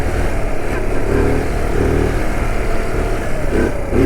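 A Kawasaki Z125 motorcycle with its stock exhaust drones steadily close by while being ridden, its engine note holding a constant, buzzing tone with wind rush and a slight shift in pitch near the end.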